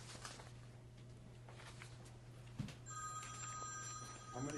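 A telephone rings in a meeting room: a faint electronic ringing tone enters partway through over a steady low hum and soft room noise, with a quiet knock just before it.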